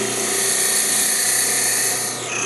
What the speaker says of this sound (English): turn the lathe on. We're going to slowly inch in.